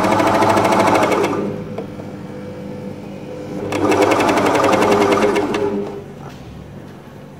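A Willpex WP550 four-thread coverstitch sewing machine runs a hem in two bursts of steady, rapid mechanical whirring, close and loud, with a short quieter pause between them and no talk.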